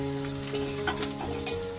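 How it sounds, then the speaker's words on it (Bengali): Chillies, onion and garlic fry in a pan with a steady sizzle, broken by a few sharp spatula stirs and scrapes; the sound is close and continuous, with no talking. "লঙ্কা, পেঁয়াজ, রসুন সমস্ত কিছু দেখো সুন্দরভাবে একদম লাল হয়ে গেছে ভাজা"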